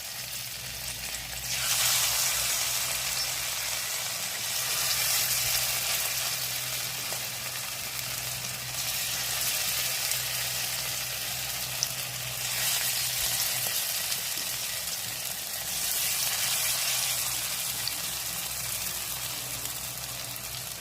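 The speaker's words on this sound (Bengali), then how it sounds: "এই যে মোচাটাকে বড়া দিয়ে দিচ্ছি" Banana blossom fritters fry in hot oil with a steady, close sizzle that swells a few times as more batter goes in, over a continuous bubbling hiss.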